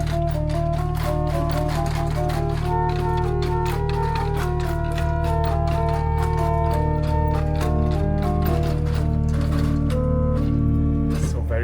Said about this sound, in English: Let's actually check out the principles, which are the foundation voices of this organ